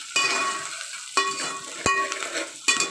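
Onions fry in a pan for a keema dish, a steady close sizzle broken by a few sharp stirring scrapes and clinks, with no voices.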